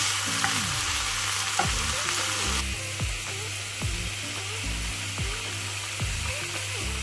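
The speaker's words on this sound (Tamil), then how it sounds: "இங்கே வந்து ரெட் கேபேஜும் ப்ராக்கலியும் வந்து ஸ்டியர் ஃப்ரை பண்ணிகிட்டு இருக்கேன்" Red cabbage and broccoli stir-fry in a pan with a steady, close sizzle, while a spatula scrapes and clacks against the pan in repeated strokes about once a second, with no talking.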